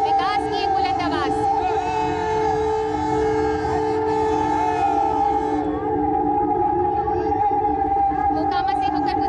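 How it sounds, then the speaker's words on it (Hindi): A train's horn sounds on the new additional railway bridge at Hajipur, Bihar, a loud, sustained tonal blare that holds for several seconds before easing, with a faint crowd in the background. "देखिए हॉर्न की आवाज, बुलंद आवाज"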